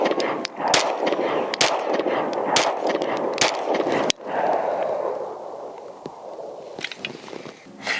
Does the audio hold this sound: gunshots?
yes